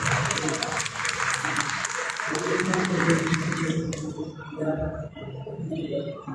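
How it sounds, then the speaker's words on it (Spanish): An audience at a medical symposium claps loudly and steadily for several seconds before the applause fades, with a voice speaking over the end. "Demos un fuerte aplauso."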